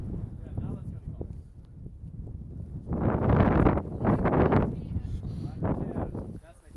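Gusts of wind buffet the microphone in loud rumbling bursts, rising and falling, while people talk underneath.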